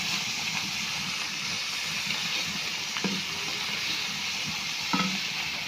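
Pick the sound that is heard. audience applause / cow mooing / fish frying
fish frying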